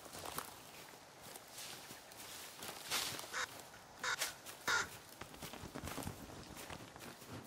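Several loud crow-like caws ring out over a quiet outdoor backdrop with scattered footsteps in the survival video game The Forest, the calls coming in short bursts, close and clear.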